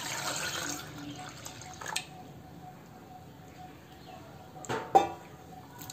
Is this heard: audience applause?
no